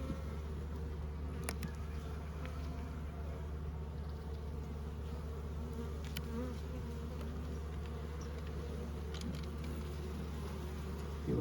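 Honey bees hum steadily around an open hive while a new queen in a three-hole wooden cage is being installed: a faint, continuous buzz with a few brief louder clicks and bumps.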